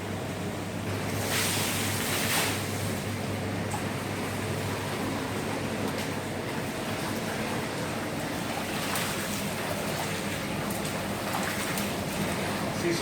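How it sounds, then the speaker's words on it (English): Water rushes steadily over a Moroccan rug as it is rinsed, a continuous broadband hiss and splash that stays at an even, fairly loud level throughout with no voices. "we're just going to rinse it with water as quick as possible"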